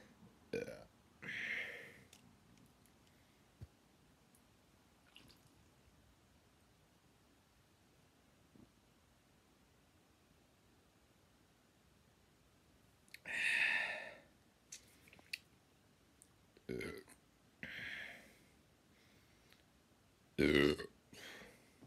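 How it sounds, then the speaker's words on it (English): Several loud burps after drinking fizzy beer, coming in separate bursts with long quiet gaps between them, close to the microphone and with no talk over them. "These burps, I swear, make you burp more than they used to."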